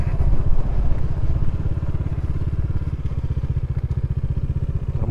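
A Bajaj Dominar motorcycle rides over grass off the asphalt, its engine a loud, steady low throb with rapid regular pulses and faint clattering and thumps from the rough ground.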